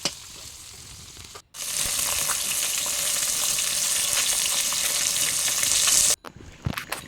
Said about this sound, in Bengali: মাছটা ভাজা ভাজা হচ্ছে।